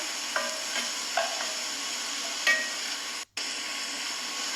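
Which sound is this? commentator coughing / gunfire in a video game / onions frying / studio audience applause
onions frying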